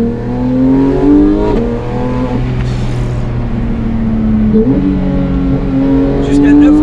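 A Porsche 911 GT3 (991.2) 4-litre engine without particulate filters revs hard and loud, its pitch climbing and falling through several throttle blips, with a throaty mechanical roar throughout.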